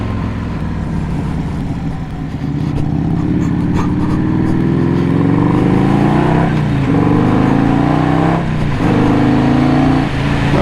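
A 1984 Harley-Davidson FLT Tour Glide motorcycle rides through a turn, its engine droning steadily with rising and falling pitch as it accelerates, loud and close, with no talk over it.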